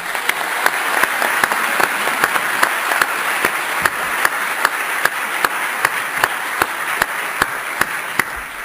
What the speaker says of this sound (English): Please give a warm round of applause for Dr.